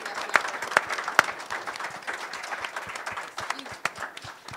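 Applause at a 2018 NYRR Millrose Games press conference, a sustained patter of many hands clapping at moderate distance with a few sharper individual claps standing out.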